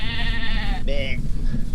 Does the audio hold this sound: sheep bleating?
yes